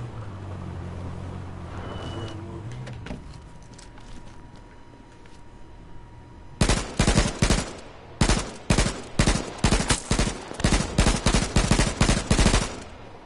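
Gunfire in an H1Z1 shootout on PS4: after several seconds of quiet vehicle hum, loud, sharp shots ring out in quick bursts and single cracks, spaced irregularly and continuing to the end.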